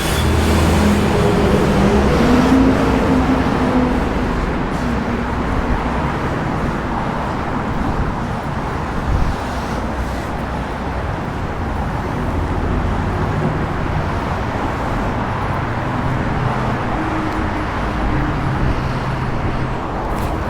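Continuous busy traffic rumbles along William Street in Sydney, the road linking the city and the eastern suburbs, with cars and buses passing close by in a loud, unbroken wash of engine and tyre noise.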